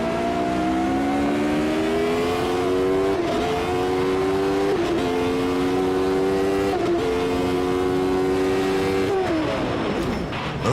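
A race car engine in the sim racing game Automobilista 2 drones loud and steady, climbing in pitch through each gear and dropping briefly at each upshift, with four shifts in a row before the engine note falls away at the end.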